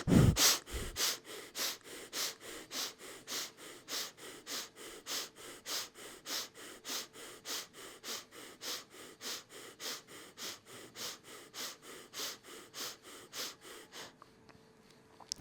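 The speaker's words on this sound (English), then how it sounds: "breath of fire." Breath of fire in Kundalini yoga: rapid, rhythmic nasal exhalations, about two per second, that pulse steadily and closely for roughly fourteen seconds before stopping, with no talking.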